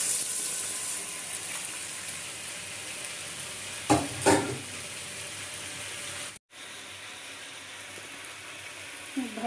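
A spice mixture fries in a pan with a continuous close hiss, broken by two bright splashy bursts as water is poured in, then a brief cut before the steady sizzle resumes.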